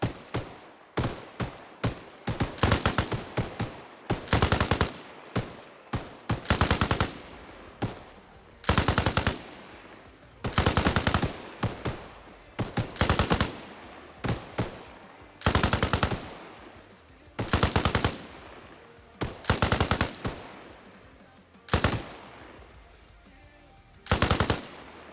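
Rapid automatic gunfire from a squad in the Arma Reforger video game, repeated bursts of loud rifle and machine-gun fire separated by short pauses, fairly close and sustained over the whole stretch.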